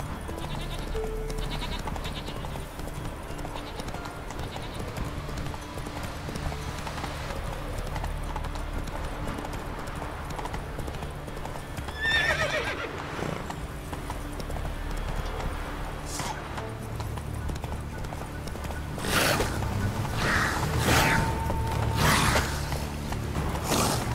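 Roach the horse from The Witcher 3 galloping, steady rhythmic hoofbeats throughout, with faint bleating animals and a few louder sounds near the end.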